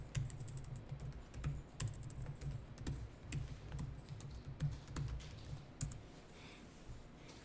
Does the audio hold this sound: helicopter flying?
no